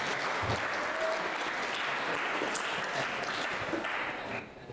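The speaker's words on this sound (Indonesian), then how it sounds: "beri tepuk tangan untuk semuanya" An audience at a Ramadan religious talk at a school claps in a steady, dense burst of applause that fades at the end, with no voices over it.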